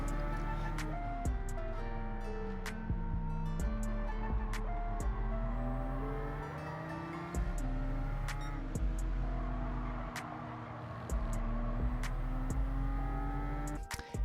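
A race car in Gran Turismo 7 revs hard through repeated upshifts, its engine pitch climbing and dropping with each gear change, loud and sustained with sharp clicks throughout and no talking.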